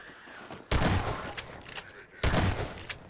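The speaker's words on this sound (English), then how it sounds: "Who's shooting? Is someone below me?" In Half-Life 2: Episode 1, two loud bursts of rapid gunfire break out about a second and a half apart, each a dense, crackling volley that cuts off sharply before the next begins.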